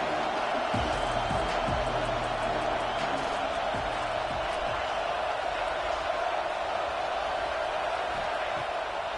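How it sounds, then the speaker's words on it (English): Stadium crowd at a college football game between Baylor and Auburn, a steady roar of cheering for the defense near the red zone, continuous and broad throughout with scattered bumps and claps in the din. "The crowd getting behind this defense as they try to get a stop in the red zone."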